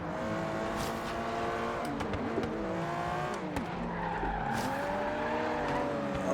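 An Aston Martin V12 Zagato in Forza Horizon 3 roars as it accelerates down a straight, its engine note climbing and dropping through gear changes, with brief tire squeal and another race car close by.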